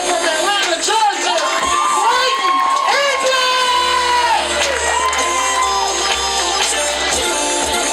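A large comedy show audience cheers and whoops loudly and continuously, with shouts rising over a dense wall of voices; no distinct clapping stands out.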